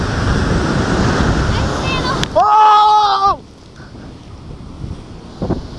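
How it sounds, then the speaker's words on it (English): Ocean waves and wind at the shore make a steady broad wash with microphone buffeting, briefly interrupted by a clear wavering tonal sound before settling into a quieter, softer surf hiss. "Just chilling by the ocean."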